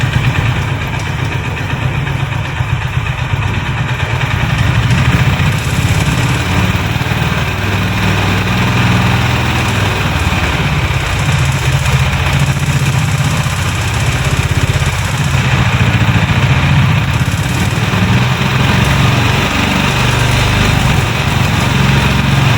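A Honda Highness CB350 motorcycle engine with a seized cylinder runs steadily and loudly up close, a continuous low mechanical drone with a rough, busy texture and no talking.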